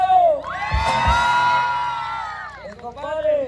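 Loud cheering and shouting from a crowd at a jaripeo rodeo and dance in San Luis Potosí, Mexico, children's voices prominent, rising sharply after a brief call and tapering off near the end.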